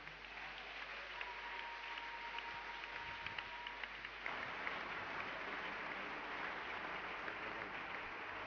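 Church congregation applauding together, a steady dense wash of clapping that swells slightly louder partway through, with a faint sustained tone and murmured voices underneath.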